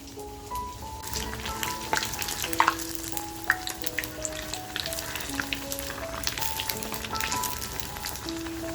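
Vada dumplings of Malvani style frying in hot oil, a steady close crackling sizzle with scattered pops, alone over music-like tonal background throughout.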